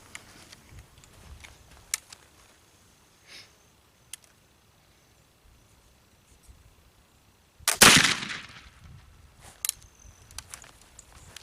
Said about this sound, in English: So, here's the last and final shot. 80 grains of the gunpowder that I pucked twice.